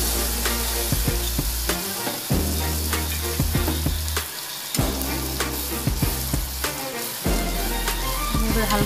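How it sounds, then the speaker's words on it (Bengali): Malpua batter sizzling loudly in hot oil as portions are dropped into the pan, a dense continuous crackle with steady bubbling and occasional sharper pops, close and alone without talk. "তেলটা গরম হয়ে গেছে। এবার আমি একটা একটা করে ছেড়ে দিচ্ছি মালপোয়া।"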